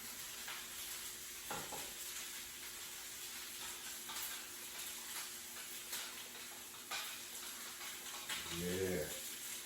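Mushrooms fry in oil with a faint, continuous sizzle, broken by a few soft clicks and clatters of stirring and a brief scraping bump near the end.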